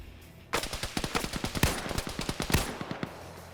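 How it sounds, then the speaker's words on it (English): Rapid video-game marksman rifle gunfire, a loud burst of many sharp shots in quick irregular succession, with a few heavier reports standing out, no voices over it. "Kill him with the marksman rifle."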